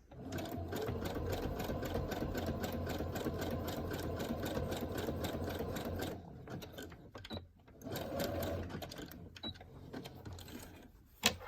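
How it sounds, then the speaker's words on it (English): Sewing machine stitching fabric for a Frankenstein-style seam. It runs in a steady rapid whir for about six seconds, then starts and stops in short bursts with handling noises, close and clear. "the point of sewing this is to create the Franken stitch that's popularized by Frankenstein movies on TV"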